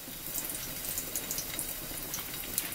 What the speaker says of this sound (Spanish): Aquí mismo vamos a agregar los chiles.